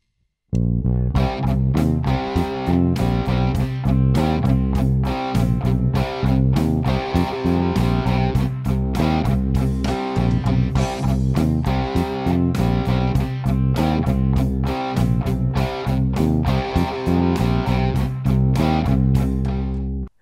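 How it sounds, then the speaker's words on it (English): An electric bass plays a loud, driving Texas blues riff of repeated plucked notes built on five notes in a steady groove, with a slightly gritty tone and no talking. "today's riff is a Texas blues inspired bass line which sounds like this"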